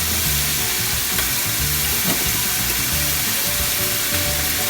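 Two teaspoons of garlic paste hit browned onions in a hot pan, a loud, dense, continuous sizzle with faint stirring scrapes throughout, heard up close with no voices.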